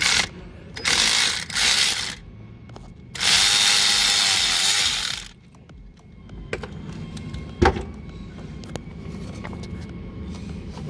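Ratchet clicking in bursts while backing out a bolt on the vacuum pump of a 2008 VW Beetle 2.5L, close and fairly loud, with quieter handling noises and a sharp knock between runs.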